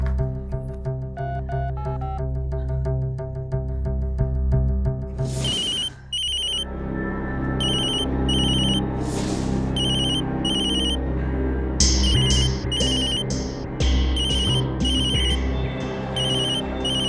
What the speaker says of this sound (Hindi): उनमें से एक का फोन है। मत उठाना।